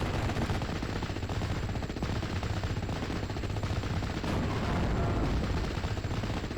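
Dense, sustained MG42 machine-gun fire rattles through a World War II battle in the strategy game Steel Division: Normandy 44, with rapid bursts layered over a constant roar of combat.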